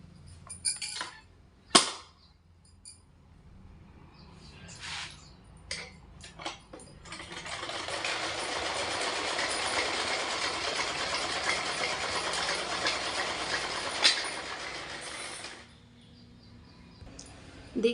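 A sewing machine runs steadily while stitching a strip of fabric about two inches wide, a continuous mid-level whir lasting several seconds after a few scattered clicks and handling knocks, then stopping.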